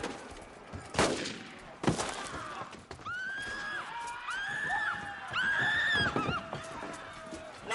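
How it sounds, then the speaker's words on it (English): Two sharp, loud gunshots ring out close together during a period-drama confrontation at a church. Loud, repeated horse whinnies and neighs follow them. "Shoot him, Smithers"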